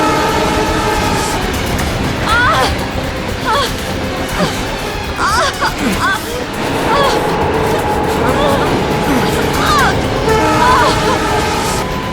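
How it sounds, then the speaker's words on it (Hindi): A moving train picks up speed, with continuous rolling rail rumble and clatter filling the scene and horn-like tones cutting through. Voices and dramatic music sound over the train. "ट्रेन स्पीड पकड़ चुकी है"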